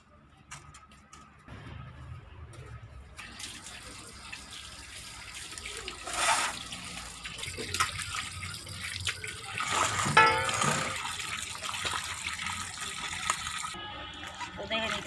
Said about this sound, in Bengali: তো দেখি চলো এটি যাই কলের পার গিয়া দুইয়া লই আই